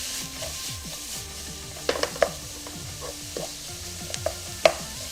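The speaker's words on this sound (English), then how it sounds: "We're gonna sweat it until the vegetables kind of get soft." Chopped vegetables sweat and sizzle steadily in a hot pan for vegan kimchi fried rice, with repeated scraping stirs from a utensil and a few sharp clicks against the pan, close and continuous.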